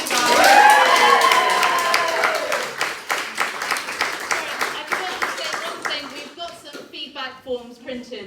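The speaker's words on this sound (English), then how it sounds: "Another big round of applause for me." Theatre audience at Camden People's Theatre applauding after a performance, a burst of clapping at the start that thins out over the clip while a voice speaks above it.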